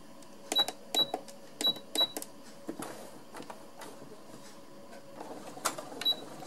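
A sewing machine runs short bursts of backstitching on sock fabric, several quick mechanical whirring runs with sharp clicks between them, close by and alone.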